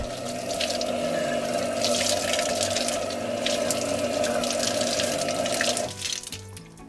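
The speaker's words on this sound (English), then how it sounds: "And we'll just rinse it off real quick." A saw blade is rinsed under a running faucet at close range, a steady hiss of water pouring and splashing that stops near the end with a few drips.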